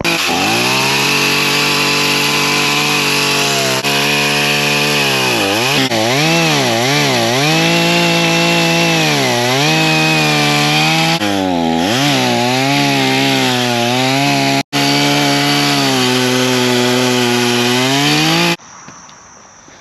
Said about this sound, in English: ready to cut some more of the stump